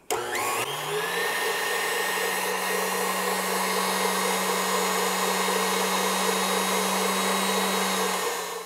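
Electric hand mixer beaters whipping frothy egg whites for a keto angel food cake while sweetener is added: a steady, loud, continuous motor whine lasting several seconds, close and alone.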